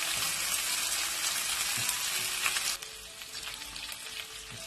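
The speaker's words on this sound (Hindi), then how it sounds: "आप इसको अच्छी तरीके से फ्राई करें ऑयल के साथ" Pieces of meat (gosht) for a Pakistani turai gosht curry fry in hot oil, giving a steady, loud broadband sizzle with occasional stirring clinks; the sizzle drops slightly in intensity partway through and continues without speech.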